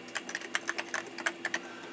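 Keys on a computer keyboard tapped out as a password is entered for an Amiga network share setup, a dozen or so quick, close clicks in an uneven rhythm with no talking.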